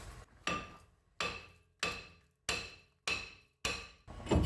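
Six evenly spaced metallic hammer blows on a stuck brake rotor of a Mazda Tribute, each a ringing clang that decays quickly, close and fairly loud.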